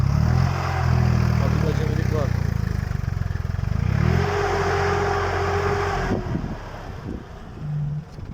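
A Başak 2060 tractor engine runs while pulling a disc harrow through a field. Its steady mid-pitched chugging rises and falls with load, and people talk nearby over it.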